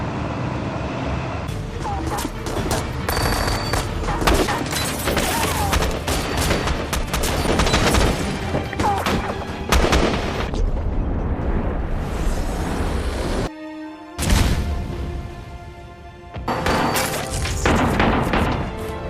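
A gunfight from the action film Act of Valor: dense bursts of automatic gunfire and heavy booms crack repeatedly at close range, with a brief near-silent break before the shooting resumes.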